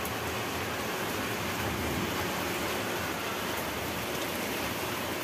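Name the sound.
heavy rain falling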